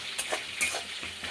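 A dragon chicken mixture with red chilli paste is stirred in a pan: several quick, close scraping strokes over a light sizzle.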